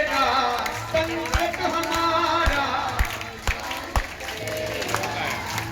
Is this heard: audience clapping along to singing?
yes